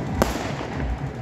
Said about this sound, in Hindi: ये बारात की आतिशबाजी है जो आप देख रहे हैं।